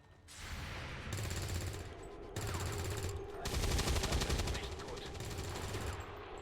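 Sustained automatic gunfire in XCOM 2 (Long War of the Chosen mod), several rattling bursts of rapid shots one after another with brief gaps, fairly close and dense.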